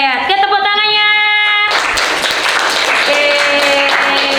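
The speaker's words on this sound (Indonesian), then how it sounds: "Oke, tepuk tangannya." A classroom of students breaks into loud, continuous clapping that rises sharply after a sustained tonal voice or note and carries on to the end with voices mixed in.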